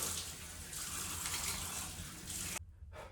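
Water runs steadily from a bathroom tap into a sink during a face wash, a continuous close hiss that cuts off abruptly near the end.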